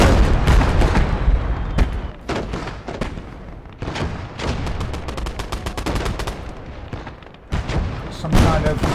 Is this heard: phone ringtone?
no